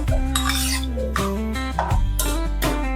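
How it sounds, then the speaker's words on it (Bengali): A spatula scrapes and stirs mutton curry ingredients in a pot on the gas stove, with repeated scraping strokes and metallic clinks close up, over a low steady hum, with no talking. "এবার গ্যাসটা অন করে দিয়ে আমি সবগুলোকে একটু ভালো করে খুন্তি দিয়ে মিক্সড করে নিচ্ছি।"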